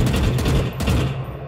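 A Vandal rifle in Valorant fires a rapid, steady automatic burst, loud and close, with the shots running together in a continuous rattle.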